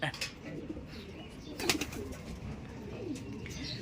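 Pigeons, fast-flying birds, give soft coos and brief flutters outdoors, fairly faint against a busy background.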